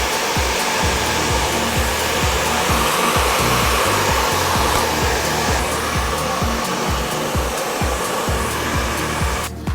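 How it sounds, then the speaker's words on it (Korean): A hair dryer blows hair dry with a steady, loud, close whooshing roar of fan and airflow that runs continuously without pause until it cuts off right at the end. "전혀 빗을 사용하지 않고 드라이기만 이용을 해서 머리를 말렸어요."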